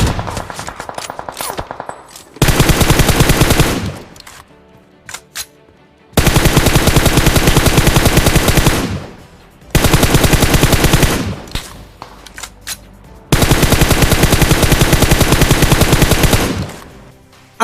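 Rapid automatic gunfire in an online shooter video game, loud sustained bursts of machine-gun fire separated by short gaps with scattered single shots between them.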